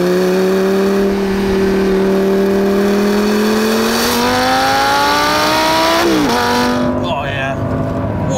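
A Lamborghini Gallardo Superleggera accelerates hard over rough roads, its loud engine note climbing steadily through the gear before a sharp shift near the end, with a voice speaking inside the cabin.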